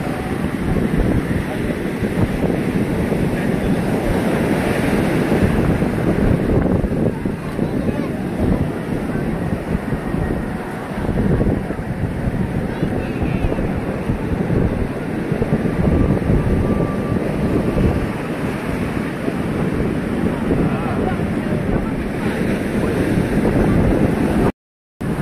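Sea waves washing in on a beach, a steady broad rush of surf with wind buffeting the microphone, continuous and fairly loud throughout with no clear voices.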